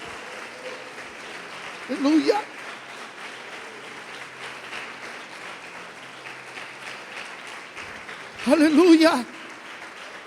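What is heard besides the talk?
applause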